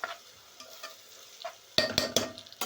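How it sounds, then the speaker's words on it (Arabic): Golden fried onion and grated carrots being stirred in a pan, with soft scraping and light sizzling that turn into three sharp, louder spoon strokes against the pan near the end. "هندي كده تقليبه البصل بالجزر"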